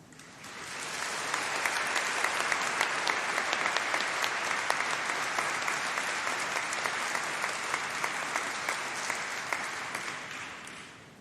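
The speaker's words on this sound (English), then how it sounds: "We're not done clapping yet." Sustained audience applause fills a university graduation ceremony hall, a dense, steady roar of many hands clapping that swells in and then fades away over several seconds.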